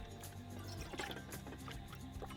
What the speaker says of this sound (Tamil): அதே கப்பில் ஒன்றரை கப்பு நாம் தண்ணி சேர்த்துக்கணும்